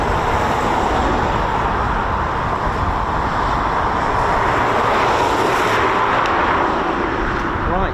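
Eurofighter Typhoon FGR4 jets taxi at RAF Coningsby, a loud, constant jet-engine roar and rumble that fills the whole span without letting up, with people talking beneath it.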